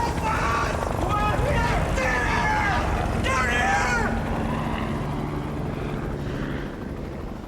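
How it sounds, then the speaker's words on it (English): A search and rescue helicopter passes over a deep Utah canyon, its steady rotor roar loud and constant throughout, easing slightly toward the end, with shouting voices mixed in over the engine. "A search and rescue helicopter has passed within meters of the top of their canyon."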